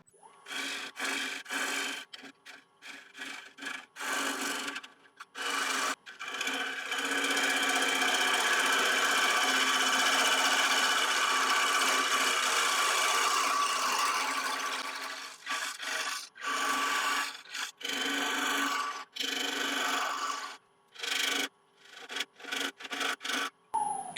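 An ash branch-wood bowl spinning on a woodturning lathe as a tool cuts into it, giving close scraping and rasping passes. A long continuous cut in the middle is surrounded by shorter bursts separated by brief pauses.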